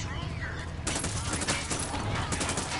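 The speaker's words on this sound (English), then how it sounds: "Where are those shots coming from?" Rapid, continuous bursts of gunfire fill a video game firefight, volleys cracking back to back at moderate distance over a dense background of battle noise.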